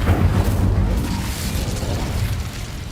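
In the video game Hogwarts Legacy, the Incendio fire spell bursts out as a loud, close whoosh of flame with a deep rumbling roar that slowly fades.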